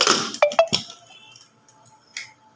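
A metal pressure cooker lid is set in place with a few sharp clinks close by, followed by fainter taps and a last light clink against a quiet kitchen background.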